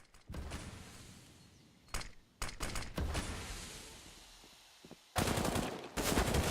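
FAMAS rifle fire in a competitive shooter game match, several short sharp bursts of automatic gunfire separated by pauses, loud and near, with a long sustained burst at the end.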